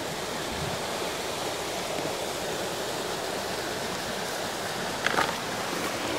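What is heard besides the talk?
forest stream water flowing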